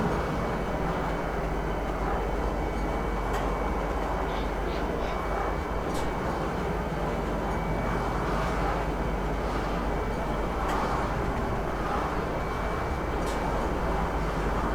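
A metro train in the video game Star Citizen rides steadily with a loud, continuous rumble and rolling noise, and faint higher squeals and clanks surface now and then.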